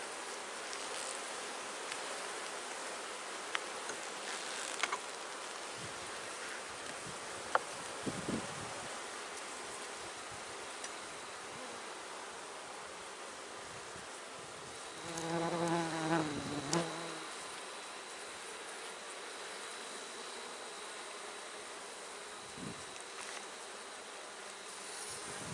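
Honey bees buzz around an open hive during an inspection, a faint continuous insect drone outdoors with occasional louder buzzing passes close by, plus light rustling and knocks.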